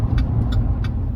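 A car drives off outside a utilities building, its engine and tire rumble holding close and steady for a moment with no voices.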